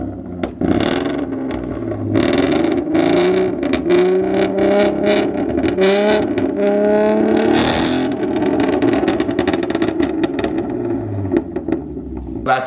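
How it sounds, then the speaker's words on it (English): A 3.7 V6 Mustang engine revs repeatedly up close, breaking up, loud rising and falling whines with a rough, slightly sputtering edge. "Started off revving the car."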